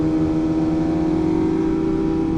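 A motorcycle engine drones steadily at high revs while lane splitting in traffic, a close, loud, even hum with stacked tones and no pauses over a brief stretch.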